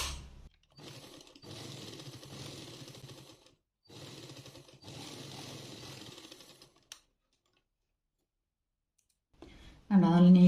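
A sewing machine stitches a saree blouse in two rapid, rattling runs separated by brief pauses, then goes quiet before a voice speaks close up at the end.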